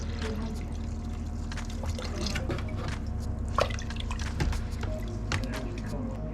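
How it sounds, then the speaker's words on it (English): Vegetable broth pours into a pot on a home stove while making a tofu loaf, a steady trickling and dripping stream close by over a constant low kitchen hum, with a couple of brief splashy bumps. "And then we're gonna throw in our vegetable broth here."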